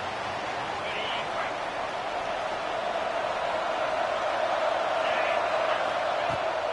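Football stadium crowd roaring loudly enough to force a false start, a dense, sustained wash of cheering and noise that stays steady and distant-sounding, with no clear individual voices standing out.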